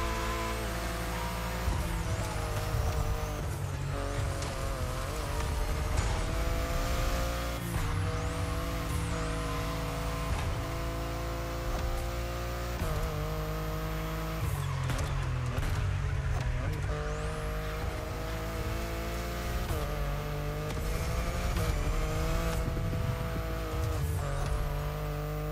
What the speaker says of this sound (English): You guys are getting passed by a BMW i8.